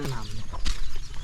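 Chickens cluck in a Tri tribe village, short choppy fowl calls mixed with people talking nearby, close and fairly loud.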